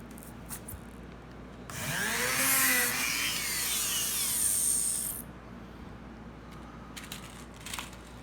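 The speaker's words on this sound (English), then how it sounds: "I hold my track in place so it doesn't move once I've drilled that hole" A power drill bores a pilot hole through a swing gate track in one sustained whining burst of a few seconds, close by, with quiet handling noise before and after.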